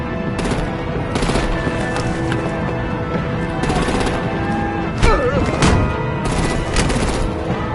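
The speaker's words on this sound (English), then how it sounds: "Break out the artillery and disable their vehicles!" Game artillery and automatic gunfire in Batman The Enemy Within crackle in rapid bursts over a busy action soundtrack, with a louder boom partway through and voices briefly heard amid the chaos.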